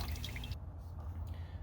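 Motor oil drips from the oil filter of a 2017 Kia Forte, soft wet patters over a steady low hum, faint and close, with a few light drops in quick succession.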